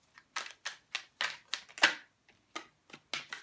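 Tarot cards are shuffled by hand in a run of quick, soft riffling flicks, faint and close, with no voice over them.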